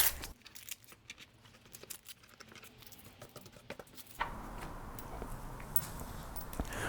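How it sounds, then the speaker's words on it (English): Paper cutting template peeled off a PERRIN engine cover lockdown on a Subaru WRX, with soft crinkling and tearing rustles close by, then a steadier broadband scraping texture in the latter half. "go ahead and remove the template."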